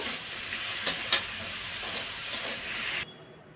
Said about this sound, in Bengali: আর এটা একটু ভালো করে নাড়িয়ে নেব